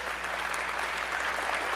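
An audience applauds during a political speech, a dense, steady wash of many clapping hands heard at a distance in a short burst.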